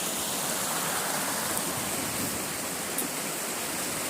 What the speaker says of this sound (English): There's the creek just going through everything.